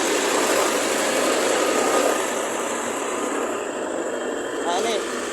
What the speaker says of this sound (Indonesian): ini mesin molennya teman-teman